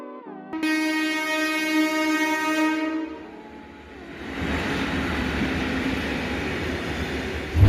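The Nanded to Panvel Express sounds a long, loud multi-tone horn at Talegaon station, which then gives way to the steady rumble and clatter of the train rolling past nearby.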